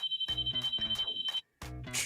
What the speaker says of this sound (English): Is that a phone call? Yeah, that's a phone call.